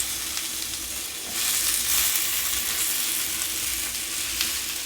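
Banana slices frying gently in oil over low heat, an even close sizzle that grows a little louder midway as the pieces are turned, with no voices.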